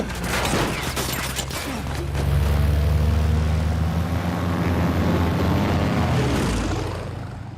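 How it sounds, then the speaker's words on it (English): Propeller plane engine in the video game Uncharted 4, a loud, steady drone that swells after a couple of seconds and holds, layered with rattling bursts like gunfire hitting the aircraft. "They shot up my goddamn plane, Nate."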